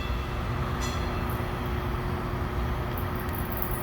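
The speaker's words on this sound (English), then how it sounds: "And excuse the train again." A train rumbles steadily past at close range, a dense continuous roar of wheels on track with faint squeals and clatter riding on top, loud throughout with no voices.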